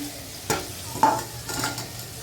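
Potatoes frying in a pan with poppy seed paste, turmeric and salt, stirred in three distinct scraping passes over a steady low sizzle, close up with no talking.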